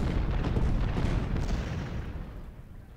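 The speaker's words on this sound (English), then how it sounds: "shelter from the cannons" Civil War cannon artillery fire in the Ultimate General: Civil War video game at First Bull Run, a rolling, rumbling barrage of distant booms blending into a continuous low roar that slowly fades.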